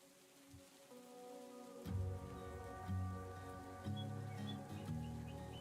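Rain in a farming video game, a soft steady patter running through the whole stretch, with faint bird chirps and low ambient game tones.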